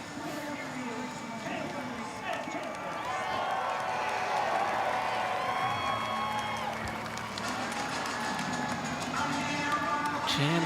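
A dense, sustained roar of cheering from a large crowd at a North Wilkesboro Speedway truck race, spread wide and fairly steady. A commentator's voice and scattered shouts sit over it as the roar swells slightly midway.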